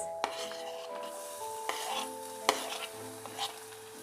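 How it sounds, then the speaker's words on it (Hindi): Momo vegetable filling being stirred and sautéed with a spoon in a pan, with soft scraping strokes and a few sharp clinks over a steady low sizzle, close and fairly quiet, no talking. "अब हम इसमें इसे चम्मच से चलाते रहेंगे और जस्ट 1 मिनट के लिए इसे सॉटे कर लेंगे"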